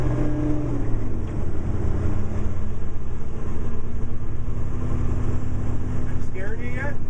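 Freightliner truck with a 10-speed transmission heard from the cab, a loud steady diesel rumble that dips and settles during a shift from fifth to sixth gear, with voices talking over it.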